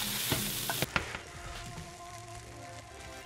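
A quinoa stuffing mixture for vegan stuffed peppers being stirred in a frying pan, a close hissing sizzle with a few scraping strokes near the start that settles into a steadier, quieter fry.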